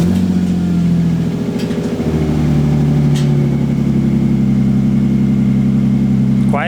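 Lexus IS300 inline-six fitted with an HKS Carbon Ti exhaust, heard up close revving once and then settling into a low, steady, subdued idle hum.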